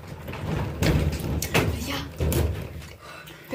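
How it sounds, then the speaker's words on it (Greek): An interior door pulled shut in an abandoned house, a couple of thuds and rattles of the door under excited voices talking over it. "Κλείσε την πόρτα."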